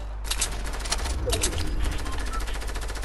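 Rapid bursts of gunfire ring out in the video game Fortnite, sharp cracks in quick succession at moderate volume over roughly three seconds, with no talking.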